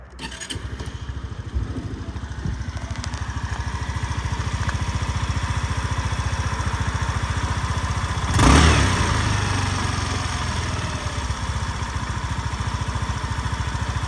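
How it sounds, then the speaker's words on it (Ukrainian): A Suzuki Address V125 scooter engine from 2017 idles steadily and close by, a continuous putter throughout, with a brief rev partway through. "чудово, без ніяких питань працює двигун"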